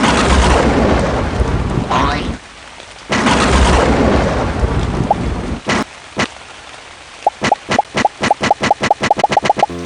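Cartoon rain and thunder effects from a Scratch animation: two heavy rumbling bursts of rain and thunder, then quieter gaps and a rapid series of evenly spaced plopping raindrop sounds at the end.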